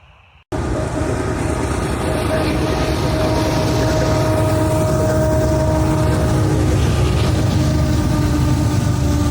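A loud, steady rumble of a heavy freight train rolling past close by, with a sustained tonal whine over the continuous roar.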